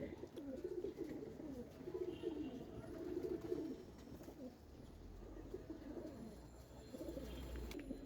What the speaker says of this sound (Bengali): এটা হচ্ছে একটা কালো গলা প্যাডামের কবুতর